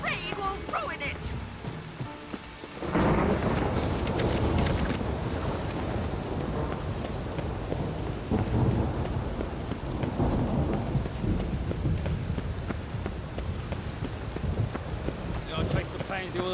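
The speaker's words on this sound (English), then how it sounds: "The rain will ruin it." Rain and thunder in The Witcher 3: Wild Hunt on PS4 suddenly swell into a loud, steady downpour with rumbling thunder that holds for the rest of the stretch.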